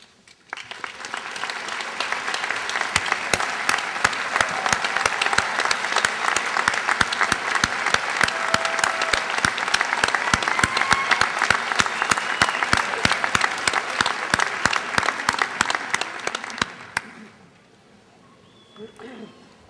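A large crowd applauds at a State College of Florida spring commencement ceremony, a long, dense roar of clapping with sharp individual claps standing out, sustained loudly for about sixteen seconds before stopping abruptly and leaving a quiet hall.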